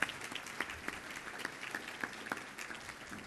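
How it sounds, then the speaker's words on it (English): A Rotary Club award luncheon audience gives the head table a round of applause, a fairly quiet steady patter of clapping with a few sharper individual claps standing out. "could we have a round of applause for our entire head table?"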